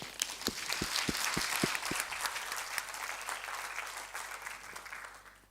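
An audience at a conference session applauds presenters with sustained clapping from many hands, a few sharp claps standing out near the start, then slowly fading.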